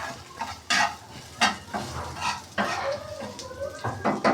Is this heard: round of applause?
no